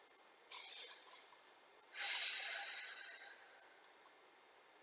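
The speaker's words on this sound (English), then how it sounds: "Inhale and then exhale as we lower." Breathing during an exercise workout: two breathy, airy breaths, a short inhale followed by a longer exhale, close and fairly quiet.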